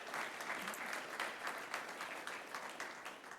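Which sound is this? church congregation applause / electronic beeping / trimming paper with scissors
church congregation applause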